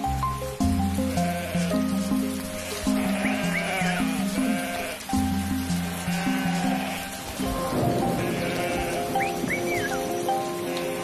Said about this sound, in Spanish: sus compañeros llevan a las ovejas a pastar 2 veces al día